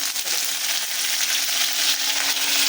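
Hot oil sizzling steadily in a pan as a katule (spine gourd) curry begins, a dense continuous crackle that stays loud and even throughout, with no talk.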